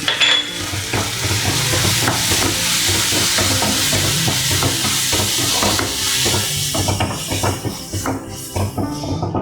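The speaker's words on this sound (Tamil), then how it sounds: "இதெல்லாம் ஒன்றா சேர்ந்து வதங்கி வந்துருச்சு" Onion and spice mixture of chili powder, coriander powder and cumin powder sautés in a pan for pepper chicken, a loud continuous sizzle broken by repeated scraping stirs of a spoon against the pan.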